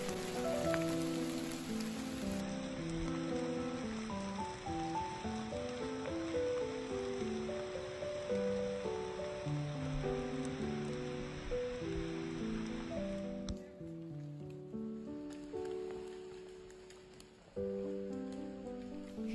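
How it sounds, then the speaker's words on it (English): Steady rain falls through a Danish forest, a dense even patter on leaves and ground that lasts throughout, with music playing over it. "And more rain."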